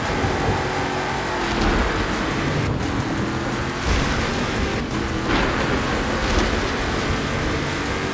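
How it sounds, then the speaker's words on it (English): In Forza Horizon 4, steady loud rain roars throughout while a couple of thunder rumbles and cracks rise briefly through the downpour. "Wow! Lightning!"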